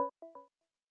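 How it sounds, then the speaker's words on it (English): A Whirlpool refrigerator's door-left-open alert plays three short, clean electronic chime tones in quick succession. It is about a second long and fades to silence afterward. "Here's a sound of where we need some attention. A door was left open, perhaps on your refrigerator."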